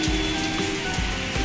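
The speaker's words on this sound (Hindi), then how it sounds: "बारिश हो रही है तेज" Heavy rain pours steadily outside a mall entrance and parking area in Lucknow, a dense continuous hiss with no talk over it.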